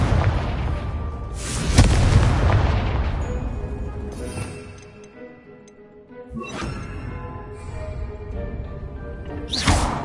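Confringo explosive spell cast in the video game Hogwarts Legacy, with a sharp loud blast around two seconds that rumbles away, followed later by further bursts and bright magical crackles, and no speech.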